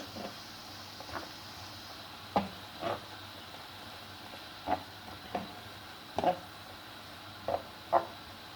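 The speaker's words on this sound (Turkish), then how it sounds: "Soğanlarımızın kıyma ile beraber iyice özleşmesi gerekiyor. Yani e, soğanlarımız iyice kavrulacak tabii ki." Onions and lean minced meat with butter frying in a pan for içli köfte filling, heard as a faint, steady sizzle broken by several soft scraping and stirring knocks at irregular intervals.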